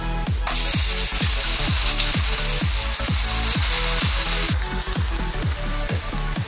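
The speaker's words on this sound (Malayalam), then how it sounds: "ഇനി ഇതിലേക്ക് കുക്ക് ചെയ്ത് വെച്ചിട്ടുള്ള മുതിരയും കുമ്പളങ്ങയൊക്കെ ഇട്ട് കൊടുക്കാം ഇട്ട് കൊടുത്തിട്ട് നന്നായിട്ട് നമുക്ക് വഴറ്റിയെടുക്കാം" Horse gram and ash gourd sauté loudly in a hot pan for a Kerala-style stir-fry, a bright steady sizzle swelling in and easing off near the end, with a regular clacking stir keeping time underneath and no voices.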